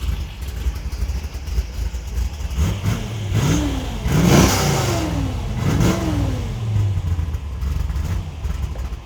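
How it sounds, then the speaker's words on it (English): A 1970 Camaro Z28 with a built 600 hp engine and 4-speed manual accelerates on a test drive, roaring up through several revving surges with gear changes, loud and close over a steady rumble. "checking out and test driving this super fast 1970 Camaro"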